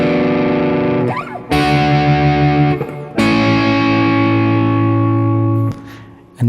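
An electric guitar plays a part from a country song with hybrid picking: loud, effected, sustained chord strums that ring out, broken by brief pauses where the strings are muted, close and without talking.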